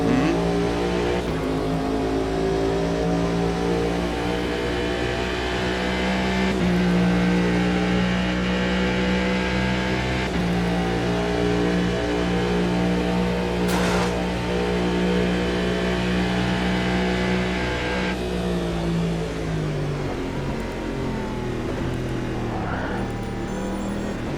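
A race car engine in the racing game Automobilista holds a steady, loud drone with gear changes and revving swells throughout, running alone without talk.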